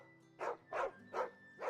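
A dog in the video game Final Fantasy XVI gives four evenly spaced, fairly loud barks over a low steady background hum.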